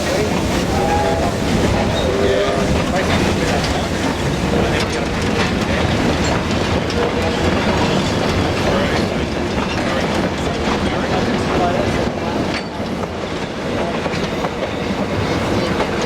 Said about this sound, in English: The freight train, which ran all day over 3 days, is being hauled by D3